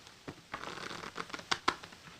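A packet of playing cards is shuffled by hand: a quick series of close, crisp riffling and snapping bursts, with a few sharper clicks near the end, no talking.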